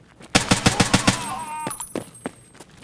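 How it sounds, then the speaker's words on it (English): ADAR rifle firing in Escape from Tarkov, a fast run of about six loud, evenly spaced shots with ringing tails and a doubled crack on each, then a few scattered later shots. "It's almost like a double gunshot effect kind of thing."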